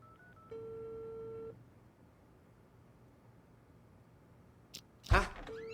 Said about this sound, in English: I'm calling this number.